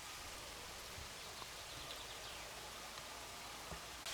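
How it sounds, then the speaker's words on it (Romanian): Light summer rain falls in the Borsec mountains, a soft, steady hiss of fine drops with occasional faint patters on nearby surfaces, quiet and even throughout. "Nu vă speriați de faptul că plouă, e o ploaie scurtă de vară"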